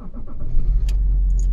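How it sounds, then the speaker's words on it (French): A BMW 530d E39 Touring diesel engine with about 444,000 km cranks briefly and fires up on the first try, settling into a steady, deep low idle rumble at close range. "On va allumer le diesel."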